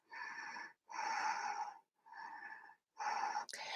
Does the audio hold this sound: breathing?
yes